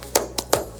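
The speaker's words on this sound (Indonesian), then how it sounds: "Tepuk tangan." Three sharp hand claps ring out in quick, slightly uneven succession, close and distinct against a quiet background.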